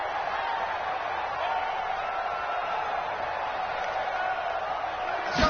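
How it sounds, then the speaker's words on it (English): Stadium crowd noise from an American football video game on PS4 ahead of a big third down, a steady hiss-like roar of massed voices at even loudness throughout, with a brief swell near the end. "And the crowd getting into it as we come up on a big third down."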